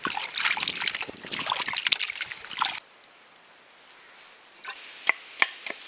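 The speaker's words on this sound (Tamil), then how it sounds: "சிக்கனை நல்லா கழுவி எடுத்துக்கலாம்." Raw chicken being washed in water, with close, busy splashing and sloshing for about three seconds, then quieter dripping and a few sharp taps near the end.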